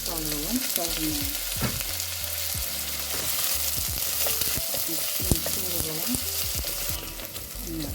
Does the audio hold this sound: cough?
no